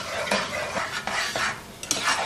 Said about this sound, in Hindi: अब इसको चम्मच चलाते हुए पकाएंगे